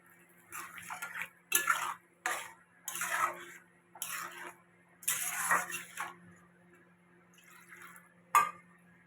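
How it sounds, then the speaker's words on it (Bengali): Curry gravy is poured into a cooking pot in a vegetarian home kitchen, giving short splashy bursts of liquid with faint clinks of utensils against the pot, close by and fairly quiet. "এবার ঝোলটা দিয়ে দেব হুম ঝোলটা দিয়ে দেব"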